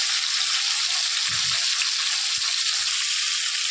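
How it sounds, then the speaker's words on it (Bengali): Potato and pointed gourd pieces fry in hot oil with a little turmeric, giving a steady, loud, close sizzle throughout, with a few soft knocks of stirring partway through. "ভালো করে আবার ভাজবো"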